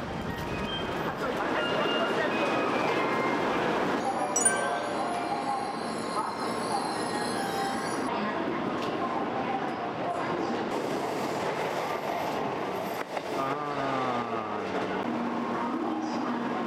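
Shinkansen train riding on rails toward Yokohama, a continuous interior rumble and rail roar with a high wheel squeal partway through, as people talk quietly over the noise.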